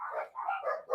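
A dog gives a single drawn-out bark or howl-like yelp lasting about a second, moderately loud and alone.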